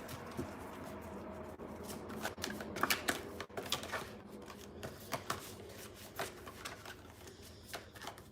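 A deck of stiff tarot-style spirit cards is shuffled by hand. Soft, irregular riffling and flicking patter runs continuously, close and fairly quiet, with no talking.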